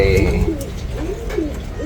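Pigeons coo nearby in soft, repeated rolling calls, several short phrases in a row over a low background hum.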